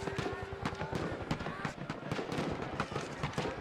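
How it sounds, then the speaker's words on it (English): Barrage of cannon fire in the strategy video game Victoria 3, a rapid, continuous stream of sharp booms and cracks layered densely over one another, with someone talking over it. "just a barrage of cannon fire"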